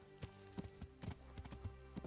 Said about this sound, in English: my shitty horse, Pebbles